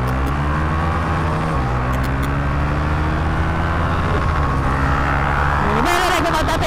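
Motorbikes race side by side on a road, engines droning steadily with shifts in pitch as they accelerate, loud and close with wind rush throughout.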